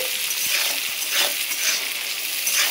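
Vegetables for fried rice being stirred and fried in a pan, a steady close sizzle broken by light scraping and clinking strokes, no voices.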